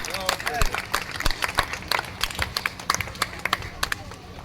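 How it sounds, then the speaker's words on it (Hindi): An audience claps for a young boy about to sing a devotional bhajan. Sharp, uneven claps patter steadily throughout, with a voice briefly heard at the start. "तो प्लीज इनके बहुत प्रोत्साहन बढ़ाइए तालियों के साथ।"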